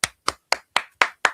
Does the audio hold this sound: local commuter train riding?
no